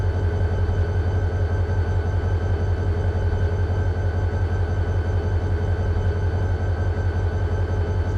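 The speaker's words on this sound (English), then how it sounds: "there's that Pearland train coming right now" A steady, heavy rumble of a passing BNSF train in Run 8 Train Simulator, rolling continuously at an even loudness with a low droning hum and no voices.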